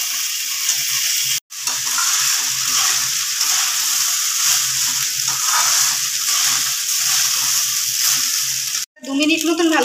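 Soaked pulao rice frying in a pan over medium heat, a steady loud sizzling hiss throughout with brief dropouts, and a voice faintly heard at the very end.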